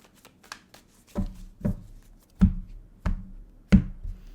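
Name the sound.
shuffling a deck of tarot cards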